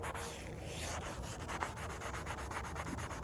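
A brush or pad scrubbing a surface with hot soapy water to lift mortar residue during a home renovation, making a close, rough, continuous rubbing hiss in quick strokes, no talking.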